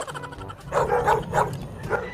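A dog chases someone outdoors, giving several yapping barks that sit among noisy, overlapping sound.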